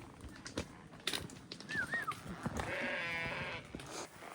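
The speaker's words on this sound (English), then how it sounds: "It's funny seeing sheep with long tails like that." Sheep with long tails bleating along a hillside footpath in Bosnia, a few short bleats standing out close by amid soft shuffling and hoof steps at a moderate, quiet level.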